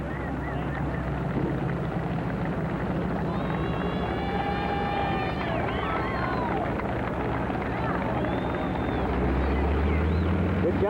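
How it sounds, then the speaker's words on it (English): A propeller-driven AT-6 trainer aircraft taxiing at an airfield, a steady loud engine drone with wind buffeting, under crowd noise and talk, with a brief whistling tone in the middle. "Hear the AT-6 taxiing in behind us."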